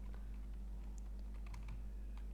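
A computer keyboard is used to type text onto a sign in Minecraft, making a handful of soft, scattered key clicks over a quiet, low background hum.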